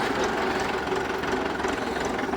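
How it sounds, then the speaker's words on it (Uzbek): A tractor engine idles in a steady, close, loud chug with a knocking rumble and no voices. "Traktorimiz ham yetib keldi."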